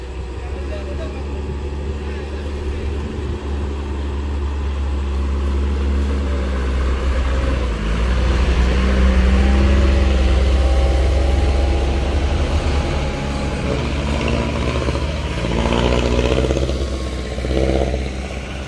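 Vehicles and heavy truck engines labour up the steep Batu Jomba uphill road, a broad low rumble swelling louder toward the middle and staying continuous, with a voice speaking over it.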